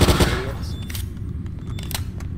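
Gunfire in Garry's Mod: a dense burst of rapid shots at the start, then scattered sharp cracks over a steady low rumble of game ambience.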